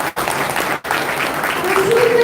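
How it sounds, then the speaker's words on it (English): An audience of parents and guardians at a school drama performance of Alice in Wonderland claps in a dense burst that carries through the clip, broken by two very short gaps. "Give yourself a big round of applause."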